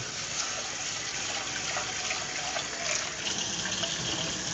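Tap water gushing steadily into a pot of rice being rinsed, a broad continuous hiss and splash at close range with no pause.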